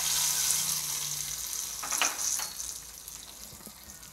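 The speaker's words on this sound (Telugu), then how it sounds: "సో పోపు వేసుకుంటున్నామండి." Tempering spices for tomato rasam sizzle in hot oil: mustard seeds, cumin, dried red chillies, garlic and coriander. A close, loud frying hiss swells and crackles, then fades gradually.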